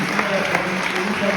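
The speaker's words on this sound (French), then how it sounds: "je vous demande encore de les applaudir" A crowd applauds at a French town mayor's New Year ceremony, a dense continuous wash of clapping filling the hall, with a voice speaking over it.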